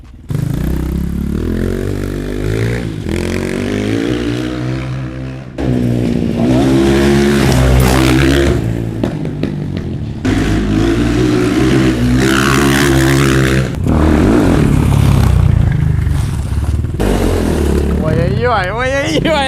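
A newly assembled motorcycle engine revs and rides off loud and close, the pitch rising and falling through repeated throttle pulls, with voices talking over it.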